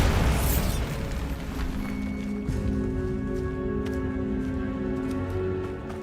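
A Bombarda spell blast in Hogwarts Legacy gives a loud booming explosion that opens with a sharp burst and then a sustained rumble with debris and tonal hum for several seconds, with no talk.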